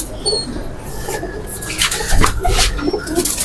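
Golden Kamagar pigeons of a single bloodline cooing softly amid faint bird chirps and background noise, low murmuring calls repeating through the stretch.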